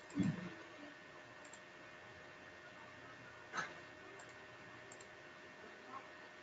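A single computer mouse click lands at a desk during a software session, with a soft knock near the start and another faint tick later, otherwise quiet room tone.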